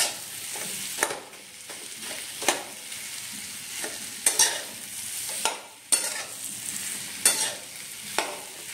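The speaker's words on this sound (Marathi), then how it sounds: "एकदा ॲड केले की चवीनुसार मीठ टाकायचं आहे आणि हे छान मिक्स करून घ्यायचं आहे" A spoon scrapes steadily through potatoes with salt and masala in a pan for Marathi batata bhaji, in repeated strokes about once a second over a soft sizzle, close and moderate.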